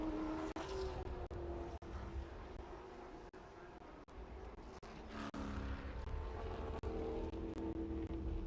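A TA2 race car, a Toyota Camry entry, accelerates during qualifying at Watkins Glen, its engine wailing and shifting through gears with abrupt upshift breaks, loud and continuous beneath a commentator's voice.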